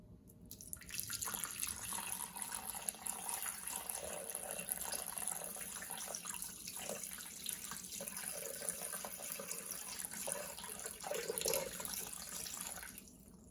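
Mulled cider pours steadily into a pot for a fruit syrup, a continuous liquid splashing and trickling that runs close and fairly loud for most of the stretch with no talking.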